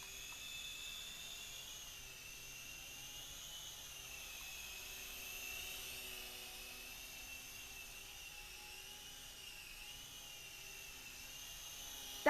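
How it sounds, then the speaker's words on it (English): A Sky Rover RC toy helicopter hovers indoors, its main rotor and small tail propeller giving a steady, thin high-pitched whir with a faint hum beneath, even and fairly quiet throughout. "That back propeller's a bit noisy though."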